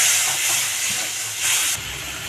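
Water poured into frying masala for a catla fish kalia hisses and sizzles steadily, a loud close steam-like hiss that swells briefly near the middle, then drops quieter toward the end, with no talking.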